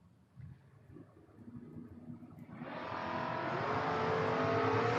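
A Mazda RX-7 drag race car launches from the line at a drag strip, its engine sound swelling abruptly from a low idle into a loud, sustained high-pitched roar that keeps climbing as it pulls away.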